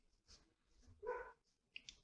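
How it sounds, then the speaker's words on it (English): A dog barks once faintly in the distance, with a few soft clicks and quiet background noise around it. "I hope you cannot hear the dogs in the background"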